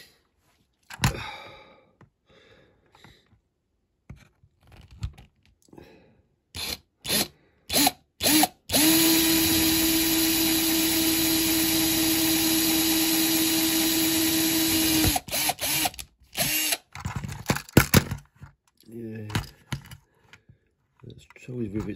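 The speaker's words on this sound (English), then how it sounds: "It's always rivets when they're not centre punched properly. Drill tends to slide." Drill boring out rivets on a Corgi Ford Gran Torino banger racing model car: scattered clicks and handling noises, then a close, steady whining drill run for about six seconds, followed by more clicks and short bursts.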